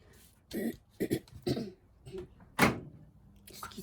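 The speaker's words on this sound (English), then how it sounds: "clearing my throat" A person clears their throat in several short, rough bursts, ending in a louder harsh cough-like push, close and indoors with no speech.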